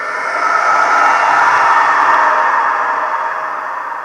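Designed screech of a flying creature, a mutated bird or eagle, for an audio story: a loud, sustained hissing cry that swells and then trails off under a long reverb tail.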